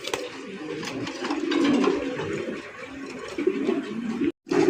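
Fancy racer pigeons coo in a loft, with soft repeated low burbling calls close by and some background noise, briefly cut by a short gap near the end.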